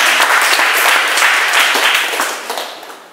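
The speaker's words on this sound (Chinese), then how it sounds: "我们拍手谢谢他们" A church congregation at a Sunday service claps together in dense, continuous applause that fades out toward the end.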